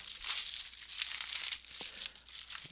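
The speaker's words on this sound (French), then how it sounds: "je vais le déballer" Plastic wrapping crinkles and tears close by as a Blu-ray case of the film Horizon Line is unwrapped, a continuous rustling with brief louder crackles.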